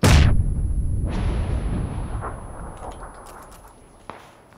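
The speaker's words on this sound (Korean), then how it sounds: "어, 수류탄." A grenade explodes in the battle royale game PUBG: one loud, close blast at the start rolls into a long, fading rumble, with a second swell and a few faint clicks and thuds as it dies away.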